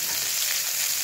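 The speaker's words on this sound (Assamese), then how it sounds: "প্ৰথমতে মই কাটি লোৱা পিঁয়াজখিনি ধুনীয়াকৈ তেলত দি দিম।" Chopped onions frying in hot oil give off a steady, close hiss and crackle of sizzling that holds level for about a second.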